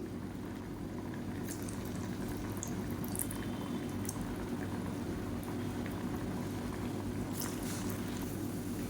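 Small torn pieces of bread pakoda batter frying in a pan of hot oil, giving a steady, continuous bubbling sizzle close by with no one talking.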